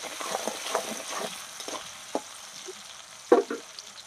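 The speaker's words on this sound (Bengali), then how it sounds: "টমেটোটা আর পেঁয়াজটা আমি আবার সুন্দর করে একটু একসঙ্গে ভালো করে একটু নাড়াচাড়া করে নেব।" Tomato and onion being stirred together in a frying pan for mutton curry, with a soft steady sizzle and scattered scraping stirs, one louder clack near the end.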